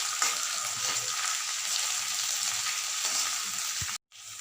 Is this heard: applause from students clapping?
no